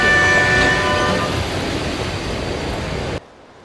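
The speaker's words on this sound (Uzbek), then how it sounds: "Andijon-Toshkent yo'nalishi bo'yicha qatnaydigan yo'lovchi poyezdi ikkinchi yo'lakdan kirib keldi." Passenger train on the Andijan–Tashkent route pulling into a station platform, with a loud, sustained rumble of rolling wagons and a horn tone before it cuts off abruptly.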